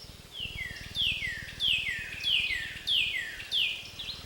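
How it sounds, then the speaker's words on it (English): Birds singing on a morning by a lake beside a road: a repeated descending whistled call sounds roughly every half second to second, fairly clear and close, over a steady low outdoor hum, with no talking. "I hope you can hear the birds singing."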